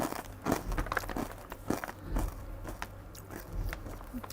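Extra spicy, crunchy serundeng snack being bitten and chewed up close, a quiet run of irregular crisp crunches and crackles with no talking.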